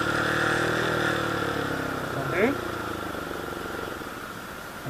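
A motorcycle engine blipped during a rev-matched downshift: a steady close idle drone, then one short rising rev in the middle that drops back to idle.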